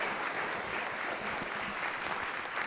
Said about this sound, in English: let's give Jason one more round of applause.